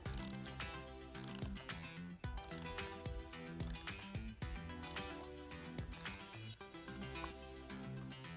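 A torque wrench set to 10 newton meters tightens the seat wedges on a bike saddle, giving a run of quick, close ratcheting clicks in a steady rhythm with no talk.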